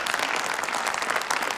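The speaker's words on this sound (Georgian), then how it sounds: "აპლოდისმენტები." A crowd claps loudly and continuously after a rendition of Edith Piaf's "Non, je ne regrette rien", a thick even wash of applause with no pause.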